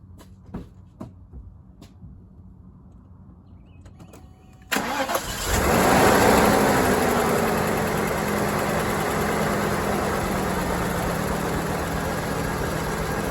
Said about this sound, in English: first we're going to start the car and then see what the voltage does